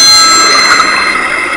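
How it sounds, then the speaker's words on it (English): A telephone rings indoors, a steady electronic bell-like trill that stays loud and close, sounding alone for the whole moment without any talk over it. "telephone's ringing."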